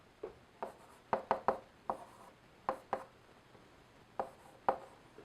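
Marker or chalk strokes on a classroom board during a calculus lecture, a series of close, sharp taps and short scratches in irregular bursts, with no talking.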